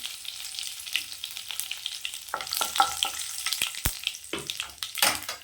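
Curry leaves, cinnamon and cloves splutter in hot oil for a potato, green pea and cauliflower curry, a soft crackle broken by sharp close pops and bursts of louder sizzling, with no one speaking.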